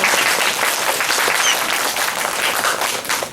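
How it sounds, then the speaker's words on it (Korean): Lecture audience at a Korean science talk on artificial intelligence breaks into dense, steady applause that holds loud and even for the full stretch, with no voices over it. "일단 박수 한번"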